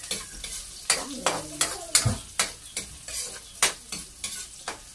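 Sautéing in a pan, with repeated scraping stirs over a steady sizzle as the food browns; close and moderately loud, strokes coming about every half second, with no talking.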